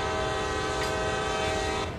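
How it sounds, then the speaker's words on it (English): CSX heavy haul locomotive horn in Train Sim World, one loud, sustained chord blaring steadily across the whole stretch with no talk. "The horn definitely works."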